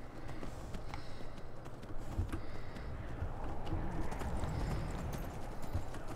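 A horse gallops in the video game Skyrim, its hooves beating a quick, steady clip-clop rhythm throughout, moderately quiet against a faint ambient game background.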